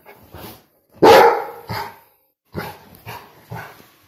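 A dog barks in short, loud bursts, roughly five separate barks spread unevenly with brief pauses, the second bark the strongest and most sustained, heard close up indoors with no talking.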